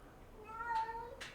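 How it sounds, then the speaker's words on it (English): A domestic cat gives a single short, faint meow close by, rising and falling, with a soft breathy sound at the end and no talking. "That's my cat."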